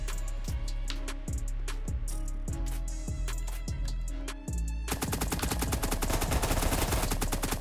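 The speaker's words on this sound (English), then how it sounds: "This guy's shooting at me." Gunfire in the video game Apocalypse Rising 2: a steady run of evenly spaced single shots gives way to a dense, rapid automatic burst, loud and up close with no talking.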